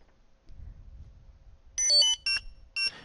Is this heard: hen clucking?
no